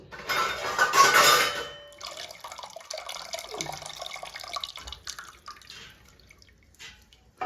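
Tamarind water is poured into a pot of sambar for idli in a home kitchen, giving a short, close splashing gush that fades into quieter clinks and stirring.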